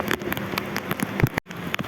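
Steady rain falling and pattering on surfaces outdoors, a dense close hiss with scattered drop impacts and a brief dropout near the end.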